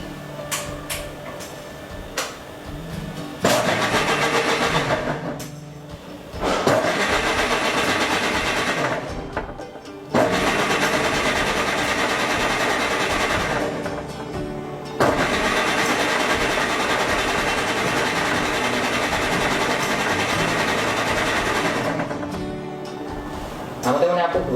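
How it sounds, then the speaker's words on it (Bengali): An electric blender whirs through a strawberry milkshake in several sustained bursts of a few seconds each, separated by short pauses, with talking nearby. "তাহলে আমরা ব্লেন্ড করি।"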